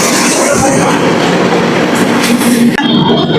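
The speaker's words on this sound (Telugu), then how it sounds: "మామ ఇప్పుడే ట్రైన్ ఎక్కేసాను అనమాట" An Indian Railways passenger train in motion, heard from inside a 3AC economy coach departing Nellore, with a loud continuous rumble and rattle filling the whole stretch.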